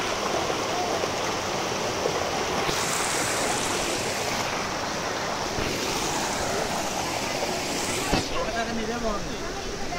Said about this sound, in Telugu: సో ఇదంతా వాటర్ ఫాల్.